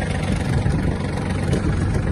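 A Yanmar EF-222 Japanese mini tractor with a rotary tiller attached idles up close, its engine a steady, loud, low rumble that holds unchanged throughout.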